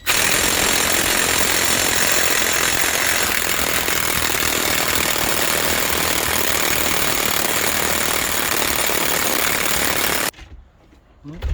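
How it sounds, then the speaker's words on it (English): Impact wrench loosening the 36mm hub nut on a Ford Transit, a loud continuous hammering rattle for about ten seconds that stops abruptly into near silence, close up with no talk. "We're going to use a rattle gun, like you say."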